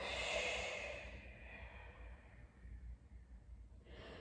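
A long, soft exhale during a postnatal stretching exercise, close and breathy, fading out slowly with no talking.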